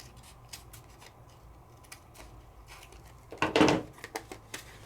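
Scissors trim paper for a scrapbooking project, giving soft snips and one longer rasping cut in a quiet room.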